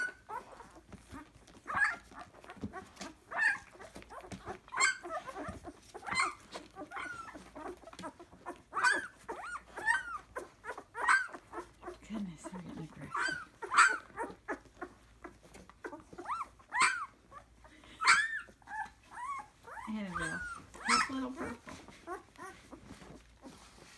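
Nine-day-old puppies whimper, yip and yap in a constant busy chorus of short, high cries. No one speaks.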